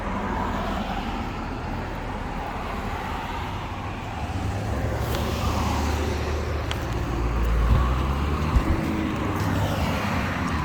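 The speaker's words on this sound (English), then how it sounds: "you'll have to excuse the traffic in the background here" Road traffic rolls past in front of a shop, a steady roadway rumble that swells as a heavier vehicle goes by partway through, with no talking over it.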